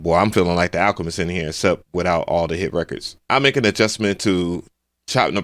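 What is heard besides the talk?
No everyday noises stand out.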